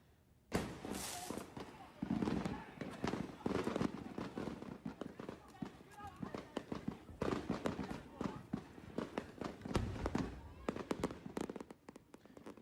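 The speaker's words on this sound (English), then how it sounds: "This drone video shows the moments the fireworks display at Keaka Drive began booming out of control." A fireworks display at a residential street goes off out of control in a long barrage of booms and crackling bursts, some loud and near and others dull, under a news narrator's voice.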